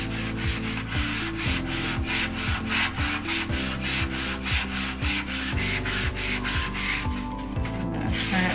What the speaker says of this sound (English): So just go in there and scrub that off.